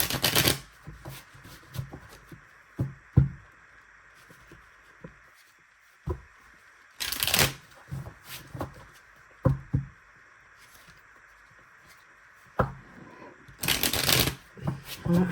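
A deck of cards is shuffled several times, with crisp riffling bursts separated by quieter handling, taps and soft clicks, heard close and alone.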